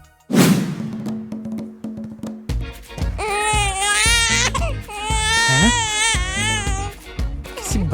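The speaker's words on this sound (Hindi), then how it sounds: "बच्चे की रोने की आवाज आ रही है।" A small baby left on top of garbage cries loudly and close, the wails rising and falling in sustained sobbing bursts after a sharp clatter at the start, with no talk over it.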